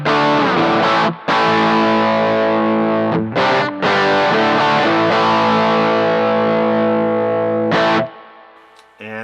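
A distorted electric guitar played through the center-clipping dirt setting of a Line 6 HX Effects unit, ringing loud sustained chords with a few brief gaps and a fading tail at the end, no voice.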